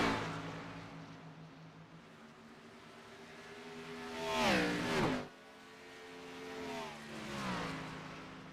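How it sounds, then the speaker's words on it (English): Xfinity Series race car engines whine and rise in pitch as they accelerate up the esses on a road course, one loud car sweeping by, then another climbing through the gears a bit farther off. "Absolutely love the sound of those race cars just flying up the S's."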